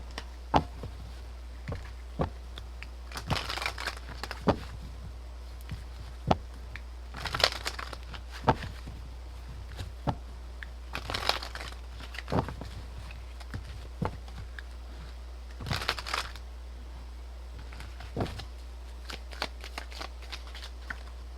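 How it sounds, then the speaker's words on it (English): Tarot cards are shuffled and pulled close up, with bursts of riffling and soft slaps between quieter pauses, over a steady low hum and with no speech. "So let's pull some cards."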